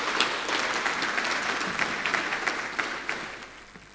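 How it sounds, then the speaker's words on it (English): Applause from the audience welcomes the Minister of Industry, Trade and Investment at a Nigerian agro-industrial program launch, a moderate, even wash of many hands clapping that gradually thins and fades toward the end. "Please give him a warm welcome and a round of applause."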